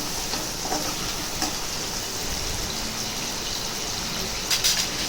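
Tomatoes sautéing in a pan for vatha kuzhambu, a steady close sizzle and crackle of frying with no talk and a brief louder burst near the end.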